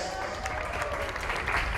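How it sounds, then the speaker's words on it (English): Crowd applause at an outdoor polo club event, a steady wash of distant clapping held at an even level throughout. "One more round of applause for the Fross and Fross team."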